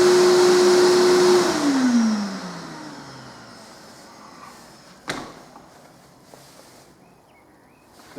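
The motor of a skyVac Atom multi-task cleaning machine hums loudly, then winds down with a falling whine until it fades out, followed by a single clunk and near quiet.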